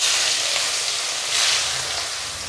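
Chopped onions frying in hot oil spiced with cinnamon and whole cumin for a pomfret curry, a steady close sizzle that swells slightly midway as the pan is stirred.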